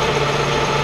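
A milling machine motor runs forward in a steady, close, loud mechanical hum with a low droning vibration, no voices over it.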